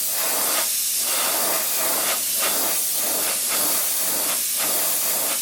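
Airbrush spraying a light overspray of light brown paint across a mouse fur pattern on a fishing lure: a steady, close airy hiss with soft rhythmic pulses as the trigger is worked, no voices.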